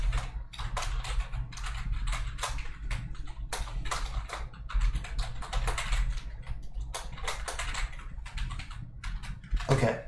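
Rapid keystrokes on a computer keyboard as code is typed for a JavaScript sorting visualization app, a steady close patter of clicks running throughout with occasional heavier taps.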